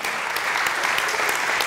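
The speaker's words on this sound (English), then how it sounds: "I wish you'd clap for that." A dense, steady wash of audience clapping fills a talk on race and poverty, sustained and fairly loud from start to finish with no voices standing out.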